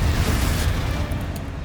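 A Confringo blast spell in Hogwarts Legacy erupts as a dense, rumbling explosion, loud and close, its heavy low roar sustained through the moment with a few faint crackles on top.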